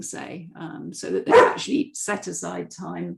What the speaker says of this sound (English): Apologies for the dog.